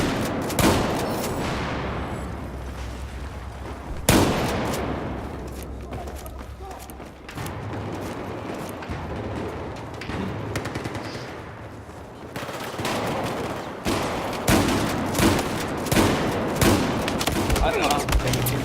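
Video game gunfire crackles in rapid bursts and single shots, automatic rattles with sharp loud onsets, while players talk over the action.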